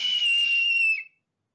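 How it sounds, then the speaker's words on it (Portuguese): A single steady, shrill referee whistle blast signals the end of a game. It lasts about one second, is loud and close, and stands alone before it cuts to silence. "Vocês veem o Aizawa levantar assim, com um apito."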